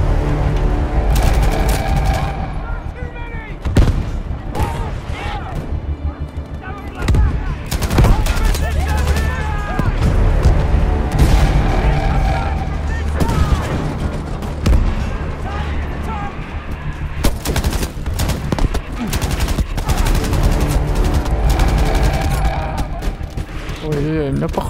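Machine gun fire in the World War II video game Battlefield V, with repeated loud bursts and rapid rattling volleys mixed with booms and battle noise, while someone talks over the gunfire throughout.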